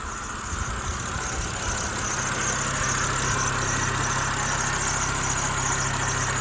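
A BMW car's engine idles steadily with a low, even rumble and slight vibration, close by and continuous, with no talking.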